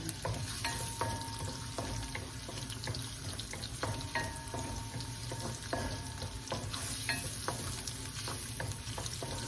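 Garlic, onion and ginger sautéing in a pan, a soft continuous sizzle with scattered light clinks and scrapes of stirring, fairly quiet and close, with no talking.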